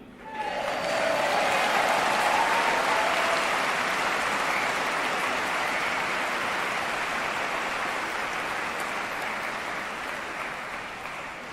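An audience at a Save Soil talk in Dubai bursts into loud, sustained applause that holds dense and even, then tapers slightly toward the end.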